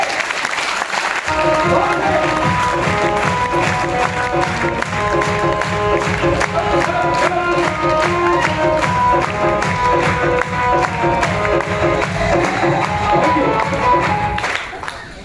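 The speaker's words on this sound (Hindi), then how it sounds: "तालियां बजा दो" A crowd bursts into sustained applause, dense and steady for over ten seconds before tapering off, with faint voices mixed in.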